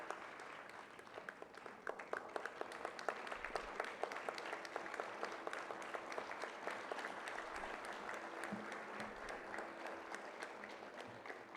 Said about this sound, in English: We give a round of applause to Dada sir.